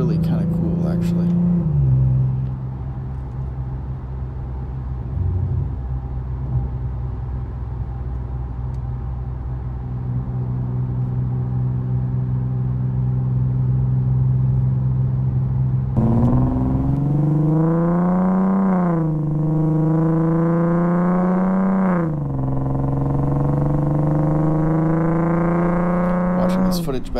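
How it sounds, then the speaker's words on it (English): Infiniti Q50 exhaust heard from outside the car on a foggy, elevated road, a steady low drone that rises into revving pulls with climbing pitch in the second half, loud and continuous with no talking. "it's actually the first time I've heard the exhaust from outside of the car"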